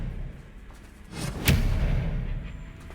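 Expelliarmus spell cast in Hogwarts Legacy video game, a sharp whooshing crack with a short thud at its peak, rising quickly then trailing off into a soft rumble.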